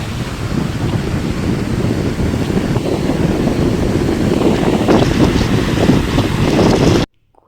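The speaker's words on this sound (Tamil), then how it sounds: "இந்த கடல் அலையோட சவுண்ட் வந்து அவ்வளோ சூப்பராக ரிலாக்ஸாக இருக்கும்." Sea waves wash onto a beach in a steady, broad roar, buffeted by wind across the microphone. The sound is loud and continuous, with no voices, and it cuts off sharply at the very end.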